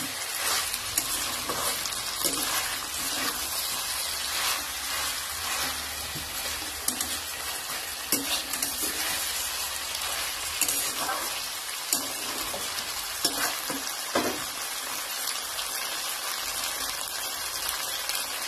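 Chicken kosha frying in a pan while being stirred, a continuous loud crackling sizzle with repeated scraping and clanks of a spatula against the pan, close up and without speech.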